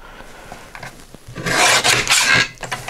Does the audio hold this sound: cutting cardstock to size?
yes